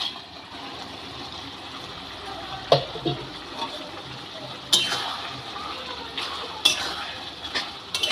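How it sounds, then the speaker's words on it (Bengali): Greens being stirred together with oil left from frying fish in a pan, giving soft wet stirring and sizzle with a few sharp clinks of a utensil against the pan at irregular intervals. "ভেজে রাখা মাছের তেলটা শাকের সাথে মিশিয়ে দিলাম"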